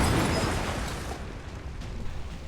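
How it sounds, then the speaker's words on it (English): A wall blown apart by an explosion in XCOM 2: a loud, broad boom opens the clip and decays into a rumbling tail over a couple of seconds, with no talk. "We're just using explosions at this point."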